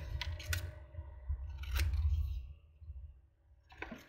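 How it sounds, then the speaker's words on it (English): Scissors trimming paper for a handmade zine, a few quiet crisp snips and clicks spaced irregularly over a low background hum. "let's trim this up a little bit"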